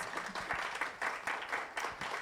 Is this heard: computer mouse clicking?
no